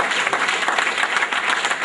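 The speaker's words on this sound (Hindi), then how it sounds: "जोरदार तालियां पहली बार अपने लिए।" An audience at a training meeting, many of them in dress code, breaks into applause: a dense, steady burst of many hands clapping together, sustained and fairly loud for about two seconds with no talk over it.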